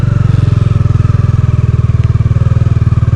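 A motorcycle on a dirt track in Ladakh runs loud and close, its engine holding a steady, throbbing idle-to-mid rhythm with no clear revving.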